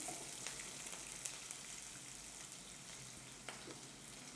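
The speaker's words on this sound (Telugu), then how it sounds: "కొద్దిగా ఆనియన్స్ ఫ్రై అవ్వాలండి" Onions frying in a pan for a cauliflower fry, a faint, steady sizzling hiss with a few light stirring taps, alone without talk.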